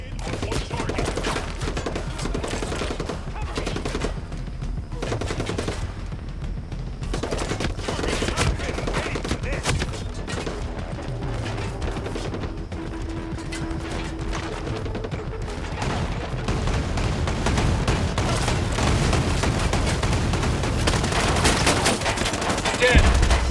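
Turret gunfire in the Ghost Recon Breakpoint video game: loud, sustained bursts of rapid automatic fire mixed with individual shots, continuing densely across the whole stretch.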